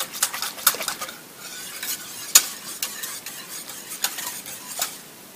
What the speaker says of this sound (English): Make sure to stir as your pastry cream cooks.